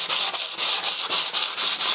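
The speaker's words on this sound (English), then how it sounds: "But what you can use is a sanding block." A sanding block rubs back and forth over a ding and dent repair, making eight or nine even, close scratchy strokes in a steady rhythm.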